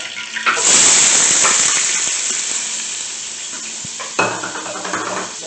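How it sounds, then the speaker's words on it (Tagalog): Onion and ginger sautéing in a pan, a loud burst of sizzling as they hit the hot oil, then a steady frying hiss with stirring scrapes, and a second surge of sizzle near the end. "gigisa tayo ng ating uh, sibuyas at uh, luya"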